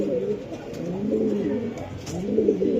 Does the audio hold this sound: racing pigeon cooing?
yes